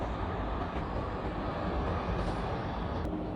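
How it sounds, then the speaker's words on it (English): Train passing near a bridge construction site in Germany, a faint steady broadband rumble heard from a distance with no distinct wheel clatter. "Yeah, see the train?"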